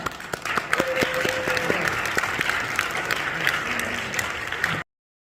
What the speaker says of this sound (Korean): 나와서 진행할 때에 박수를 하도록 하겠습니다